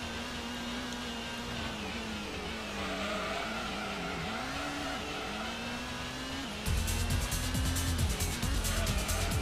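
A Mazda RX-7 race car in Gran Turismo on PS1 during the SS Route 11 all-night endurance race drones steadily with a sustained engine note throughout, growing louder and rougher near the end.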